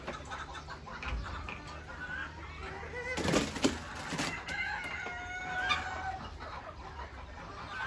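Chickens cluck and crow in a busy flock while being fed grain, with a sharp burst of fluttering and squawking partway through, against a steady farmyard background in Qatar.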